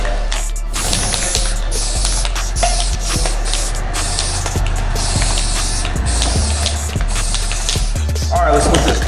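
Spray paint hisses from an aerosol can onto a ceramic-coated Lincoln car in long, steady bursts with brief breaks, loud and close, with some rustling handling noise.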